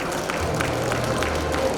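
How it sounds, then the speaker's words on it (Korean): A crowd claps in steady applause at an award ceremony of the Seoul International Buddhism Expo, an even, moderately loud patter of many hands throughout a short burst. "큰 박수 부탁드리겠습니다"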